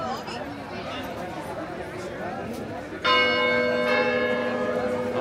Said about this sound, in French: Ah bah là tu les as en direct les cloches.